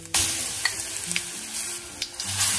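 A garlic, chili and cumin paste hits hot oil with asafoetida and crushed curry leaves, giving a steady, close sizzle and frying hiss broken by a few sharp spoon clinks and stirring scrapes.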